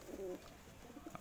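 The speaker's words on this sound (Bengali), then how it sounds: "পায়রা দেখে নিন, পায়রার কোয়ালিটি দেখুন, লং সাইজের পায়রা, অরিজিনাল পায়রা আছে" Punjabi Malwai pigeons give a soft, low cooing phrase close by, quiet and brief, followed by faint murmuring coos against a hushed background.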